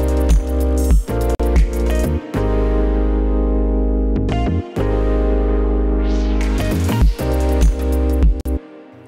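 Synth tune with auto-panned, reverb-washed chords and bass notes, loud and sustained, broken by short plucky stabs and brief gaps of silence, played alone with no voices.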